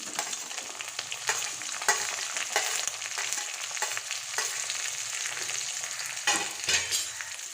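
Small shallots fry in hot oil in a pan, giving a steady close sizzle with occasional louder stirring scrapes and crackles rising over it. No voices.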